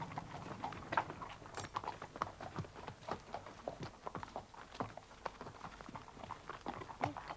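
Horse hooves clip-clop steadily along an old pack horse route, a brisk repeating rhythm of hard strikes at moderate distance, with faint background sounds.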